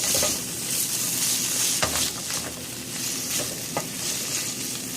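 Beaten eggs seasoned with salt and pepper frying in about three tablespoons of oil for an omelette, a continuous close sizzle with a few sharp spatula scrapes and taps.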